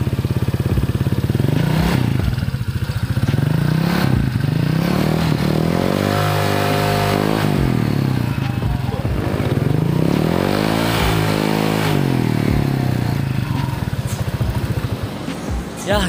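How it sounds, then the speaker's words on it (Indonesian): A Honda Vario 150 scooter with an aftermarket exhaust idles and then revs in a few swelling bursts close to the tailpipe in a public spot, while someone speaks briefly. "kita cek sound di bagian knalpotnya"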